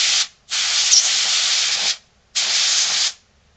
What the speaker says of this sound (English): So, hit it with a freeze spray.